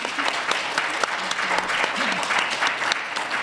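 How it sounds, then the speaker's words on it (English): Audience applause at a novel launch event, dense and steady clapping from a crowd throughout, with sharp individual claps standing out. "just give them a big round of applause before we start"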